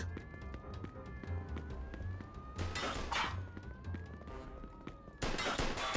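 Rapid sharp gunshots crack repeatedly amid bursts of louder fire in the game Mafia II, over a low background rumble and faint voices.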